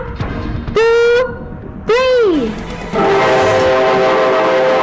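Two loud, rising-and-falling horn blasts from a new MRT-7 (Metro Rail Transit Line 7) train set on display in Manila, followed by a steady rumble of the train, no talk.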